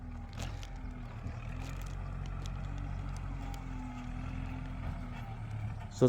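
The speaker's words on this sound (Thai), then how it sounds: "เอารถไถเอาดินมาลงนะครับ" A tractor hauling soil to fill a garden plot runs as a steady, fairly close engine drone throughout, with a sharp knock near the end and no talk.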